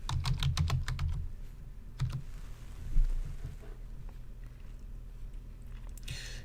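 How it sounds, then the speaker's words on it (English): Search terms are typed on a computer keyboard in a school research setting, a close, quick run of key clacks at first, then slower scattered taps and a brief burst near the end. "I can type in 1920s"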